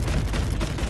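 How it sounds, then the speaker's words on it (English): Fireworks set off in the video game Animal Company during its winter update, a dense run of rumbling booms and crackling bursts over about a second, loud and close with no talking. "Look, I'm gonna make fireworks."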